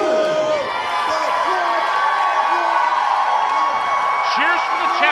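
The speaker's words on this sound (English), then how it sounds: "Cheers for the challengers." A wrestling crowd at an NECW show cheers and whoops for the challenging tag team, a loud, sustained roar with scattered shouts and children's voices rising over it.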